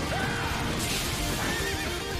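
A horse neighs in the samurai action video game Sengoku Basara Samurai Heroes, a loud, close whinny over dense battle noise and clip-clopping hooves.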